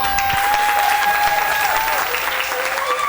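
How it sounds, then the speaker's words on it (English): Crowd of sports fans claps and cheers in a steady, dense burst of applause at a local sports report taping, with some whistling tones riding on top, close and loud throughout. "And then you clap."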